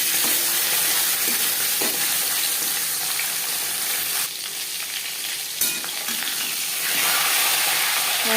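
Marinated silver carp fish head fries in hot refined oil with a loud, continuous close sizzle, briefly dipping and surging as the pieces settle, with no talking.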